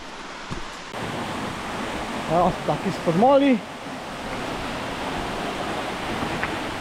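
Steady broadband rush of a waterfall with an overhanging rock ledge on a footpath in Croatian Istria, constant and close, with brief speech from a person partway through.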